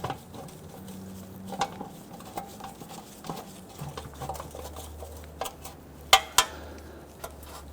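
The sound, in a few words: threading oil pan bolts by hand on a Toyota Camry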